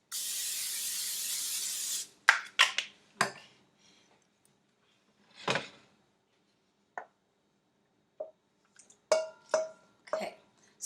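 Olive oil cooking spray hisses onto a baking pan in one steady burst of about two seconds, followed by scattered close clicks and clatters of the pan and utensils being handled.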